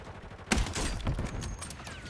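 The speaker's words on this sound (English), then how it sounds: "I need to see if my sniper still hits." A sniper rifle fires in a first-person shooter game: one loud, sharp crack followed by a rolling, rumbling tail that fades over the next second and a half.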